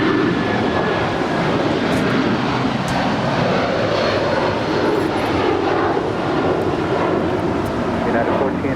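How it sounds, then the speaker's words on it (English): A 20-year-old United Airlines Boeing 757-300 takes off from runway 25 right at LAX, bound for Honolulu. A loud, steady, broadband jet roar fills the whole stretch, with faint voices underneath. "This is United Airlines Flight 1431 departing to Honolulu."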